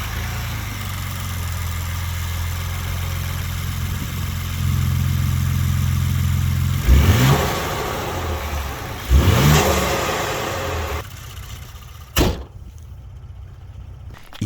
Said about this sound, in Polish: producent zadbał o to, żeby to V6 świetnie brzmiało